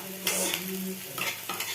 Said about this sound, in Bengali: এই পেঁয়াজটাকে ভাজছি